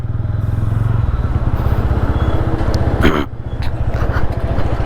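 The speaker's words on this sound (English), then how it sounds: "Silent start, special feature of the Ronin." Up close, a TVS Ronin motorcycle engine runs with a steady low thrum and light mechanical clatter. A short burst of higher noise cuts in about midway.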